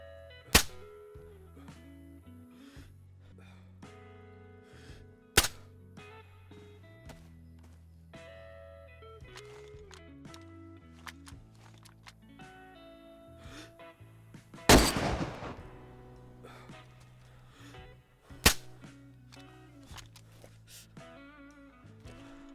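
Four loud gunshots ring out in DayZ, spaced several seconds apart, with one shot trailing into a long sweeping echo, against a quieter game soundscape of shifting tones.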